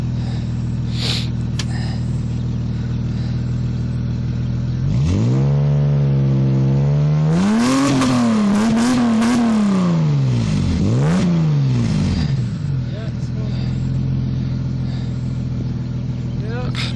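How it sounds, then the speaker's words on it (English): A 1994 Dodge Intrepid with a custom catback exhaust idles, then revs up in several rising and falling pulls before settling back to a steady idle, loud and close, with people talking over it. "I rev this up so you can hear what it sounds like"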